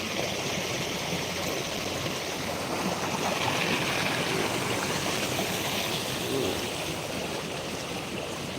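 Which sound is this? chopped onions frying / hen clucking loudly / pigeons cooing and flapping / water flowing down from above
water flowing down from above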